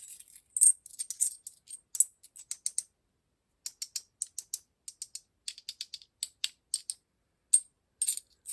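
Two 50p coins are knocked together in quick bursts, bright metallic clinks and rattling ticks with short pauses between clusters, close up and quiet, with no voices.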